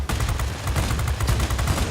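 A P-39N-1 fighter in World of Warplanes fires its cannon and machine guns together, a loud, rapid, unbroken burst of gunfire that runs for the whole two seconds.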